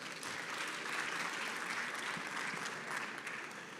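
Steady, dense applause from a large audience at a quantum science congress welcome reception, sustained and even throughout without pause.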